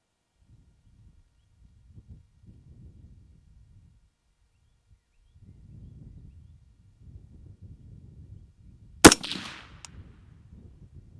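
A single sharp rifle shot cracks out while a rifle scope is being zeroed. It comes after a long stretch of near silence and faint low rustling, then trails off into soft background noise.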